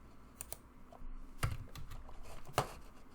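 Keys tap on a computer keyboard as a password is entered, in a few quiet, irregular keystrokes. Sharper clicks come at intervals, close and alone, with no talking.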